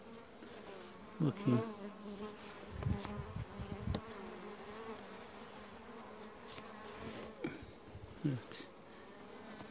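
Honeybees buzzing steadily around an open hive during an inspection of a weak colony, a constant close drone with occasional knocks and handling sounds; a person speaks briefly in Turkish.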